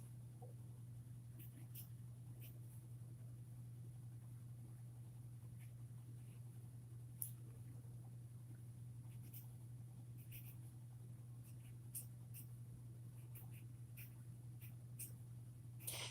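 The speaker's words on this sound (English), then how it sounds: "I got to finish writing out this petition" Faint pen scratching as someone handwrites a petition in reverse, soft irregular strokes and small ticks over a steady low electrical hum, with no talking.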